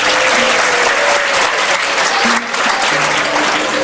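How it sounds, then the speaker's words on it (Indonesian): Loud, steady applause from an audience at an Islamic religious talk, dense clapping filling the whole stretch without a break. "Tepuk tangan nggak apa-apa"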